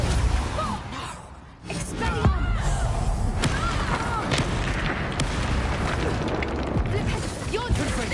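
Explosive spells from Hogwarts Legacy go off in rapid succession, a continuous barrage of booms, crashes and bursts at close range, with a brief lull before the clamor resumes and carries on at full loudness.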